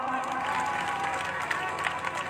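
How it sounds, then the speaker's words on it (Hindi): An audience at a Shrimad Bhagwat katha in Kanpur claps together in a steady, dense wash of applause, fairly faint and even throughout, with murmuring voices mixed in. "बजाओ ताली"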